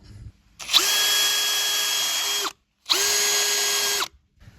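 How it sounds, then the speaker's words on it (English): A power drill boring small holes through a rubber mud flap on a 1980 Volvo 345, two sustained whining bursts of about two seconds each with a short pause between, close and loud. "now I'm going to see if I can drill a couple of little holes in there in the mud flap"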